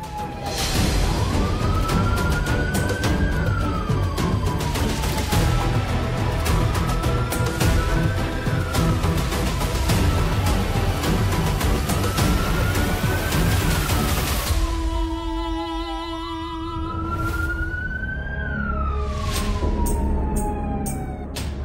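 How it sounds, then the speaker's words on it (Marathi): A police siren recording plays back loudly and continuously, wailing up and down in slow repeated sweeps that shift to a faster pattern near the end, with no talk over it. "हा पोलीस सायरनचा ऑडिओ मी प्ले केला होता."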